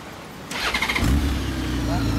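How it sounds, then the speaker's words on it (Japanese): A 2013 Honda Gold Wing F6B motorcycle with a smooth flat-six engine cranks and starts, settling into a steady low idle hum after a brief starter burst, close by with voices around it. "エンジン音聞かせてもらえますか？"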